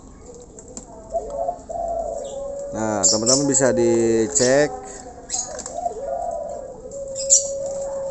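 A pet starling (jalak) calls during a rain therapy session for songbirds, giving loud, close whistled notes and a rich burst of layered song in the middle, while someone talks over much of it.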